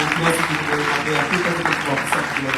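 Church congregation clapping and cheering in praise, a dense continuous wash of applause with voices mixed in throughout.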